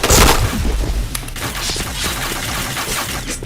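Rapid gunfire bursts from the Point Blank video game, a loud volley at the start followed by steady, dense crackling shots throughout.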